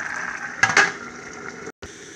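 Water simmering in a covered cooking pot, a steady close bubbling hiss with a brief louder clatter near the start and a short gap of silence near the end.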